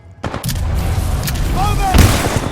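Rapid gunfire and booming shots fill a Titanfall 2 firefight, loud and close, with soldiers' shouted voices mixed into the chaotic bursts.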